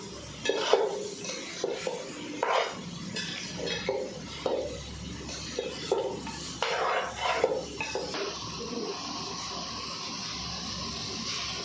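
A goat head curry with ginger paste and chili is fried and stirred in a pot, with a spoon scraping and knocking in irregular bursts over a faint sizzle, close up, then a steadier hiss near the end.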